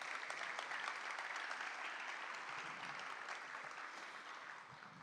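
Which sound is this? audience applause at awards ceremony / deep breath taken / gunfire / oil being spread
audience applause at awards ceremony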